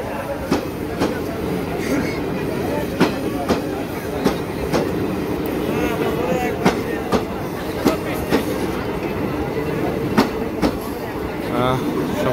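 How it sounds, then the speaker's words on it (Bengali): Long multi-carriage train from India passing Kumarkhali railway station in Kushtia, Bangladesh, with a close steady rumble and regular clickety-clack of wheels over rail joints, plus faint squeals, while someone talks over it. "অনেক বড় ট্রেন আসলে অনেকগুলো বগি যদিও আমি আসলে একটু আসতে লেট করছি"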